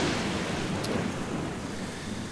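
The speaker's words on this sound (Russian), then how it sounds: "Чертовски страшно ударила молния" Lightning-strike thunder in the Black Mirror video game, a sustained broadband rumble that holds steady and loud throughout, with no speech over it.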